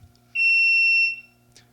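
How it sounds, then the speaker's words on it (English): A buzzer from the FTDisplay interval timer app sounds once, a steady loud electronic tone lasting under a second before cutting off. "The buzzer goes off at the start and end of each interval."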